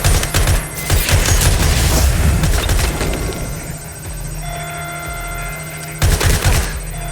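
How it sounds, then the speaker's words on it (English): Heavy gunfire erupts in Watch Dogs Legion, dense bursts of shots and booms crowding the opening seconds, easing into a quieter stretch with ringing tones, then a fresh loud volley near the end. "They're shooting at us!"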